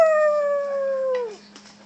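A young child imitates a dog, copying her grandpa's howl at the moon with one long, sustained, slowly falling howl that breaks off, followed by a faint catch of breath, close and alone.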